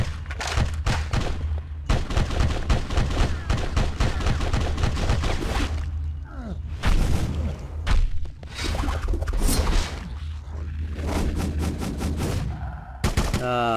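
Enemy gunfire in Bloodrayne, with rapid bursts of loud close shots and clattering volleys repeating throughout over a low game rumble.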